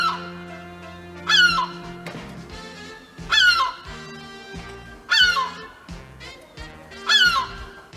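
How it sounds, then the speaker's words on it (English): Seagull calls sound in four loud, harsh, squawking bursts at roughly two-second intervals, each a rising then falling cry, heard alone with no talk over them. "here is a review from a seagull"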